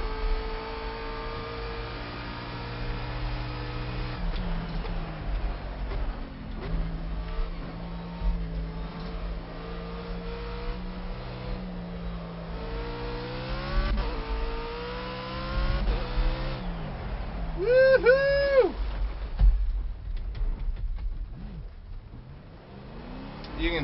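A race car in the game Project Cars, driven on a rain-soaked track, drones and revs up and down through gear changes, with sharp rising rev bursts near the end and someone talking over the engine.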